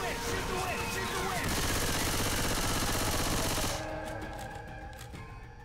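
Rapid automatic gunfire in Left 4 Dead 2, fired at the Witch, a loud sustained burst that cuts off partway through, with game noise continuing beneath.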